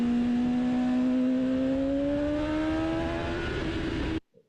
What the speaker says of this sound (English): If we have a little listen to the bike here.